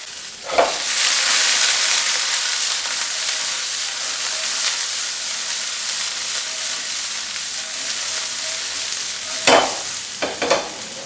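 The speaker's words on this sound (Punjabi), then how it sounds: "ਥੋੜੀ ਜਿਹੀ ਤੇਜ਼ ਅੱਗ ਤੇ ਆਪਾਂ ਜਦੋਂ ਸ਼ੈਲੋ ਫਰਾਈ ਕਰ ਲੈਂਦੇ ਹਾਂ" Cauliflower shallow-frying in hot oil over high heat for aloo gobi gives a loud, steady, close sizzle throughout, broken by a few clattering stirs near the start and end.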